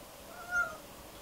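A cat gives a single short, soft meow in a quiet room, brief and faint against low background hiss.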